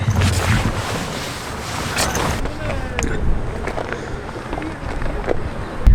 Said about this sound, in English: We've left the coast trying to escape the wind. Spoiler, it didn't work.